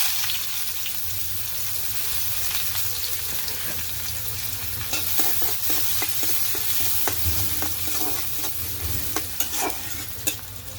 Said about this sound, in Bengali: কড়াইতে পেঁয়াজ দিয়ে দিলাম।